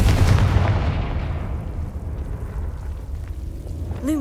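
A Confringo fire spell in the Hogwarts Legacy video game detonates in a loud, booming explosion that starts heavy and then decays into a long, rumbling crackle.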